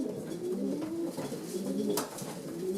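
Soft, low cooing of racing pigeons in a loft repeating close by, with a faint rustle and light background murmur.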